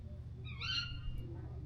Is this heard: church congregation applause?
no